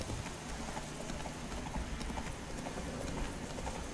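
A horse's hooves clip-clop steadily as it is ridden in The Witcher 3: Wild Hunt, a soft continuous galloping rhythm over a faint, even ambient background.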